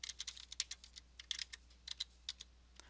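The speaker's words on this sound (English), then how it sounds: "If I continue typing" Typing on a computer keyboard while writing in Microsoft Word, a rapid run of light, close key clicks in uneven bursts with brief pauses, quiet and alone.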